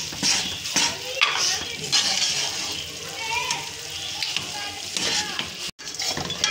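Masala of onion, tomato, coriander, turmeric and salt frying in oil in a pan while being stirred: a dense close sizzle with repeated scraping and clinking of a spoon against the metal.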